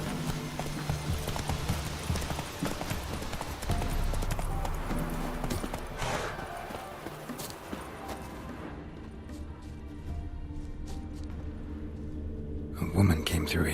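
Hooves of Roach, the horse in The Witcher 3: Wild Hunt, clip-clopping in a steady rhythm through a busy game soundscape, fading back partway and returning near the end, with a voice talking at times.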